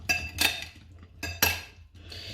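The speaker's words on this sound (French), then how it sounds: "Je vais mélanger sans écraser, vraiment on mélange doucement." A utensil gently mixes moussaka vegetables in a pan, making two pairs of clinking, scraping strokes against the metal, close and fairly quiet, with short pauses between them.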